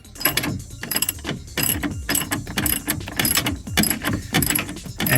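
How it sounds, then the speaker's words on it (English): A ratchet wrench tightening the 13mm top bolts on a rear strut during a KYB Strut-Plus suspension replacement, a run of fast clicking bursts with brief pauses between strokes, close and loud, no voices. "now we're gonna torque up the top bolts"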